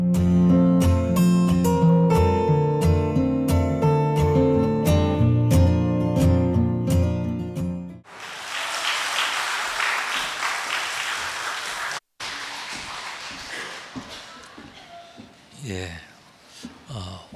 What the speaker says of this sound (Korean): 여러분들 큰 박수 한번 해주시면 감사합니다.